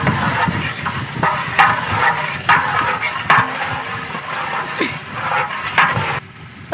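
A spoon or ladle scrapes and knocks through spices in a large pot of degi chana biryani, with rhythmic clatter over a steady frying sizzle, close and fairly loud.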